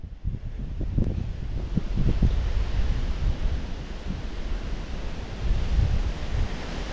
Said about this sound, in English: Look at the wind in the water.